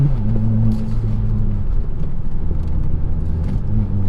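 Interior of a Nissan Juke Nismo RS with a manual gearbox while driving, steady low engine drone and road rumble with a sustained tonal hum, loud and constant without talk.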